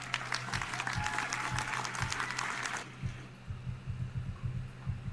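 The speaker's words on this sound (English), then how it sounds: "Well, that's worthy of applause" An audience applauds in a dense, steady burst of clapping that cuts off abruptly near the three-second mark, leaving a low background with soft thumping pulses.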